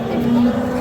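A cow at a cattle market lets out a short, steady low moo, close and loud against a busy background hum of the trading ground.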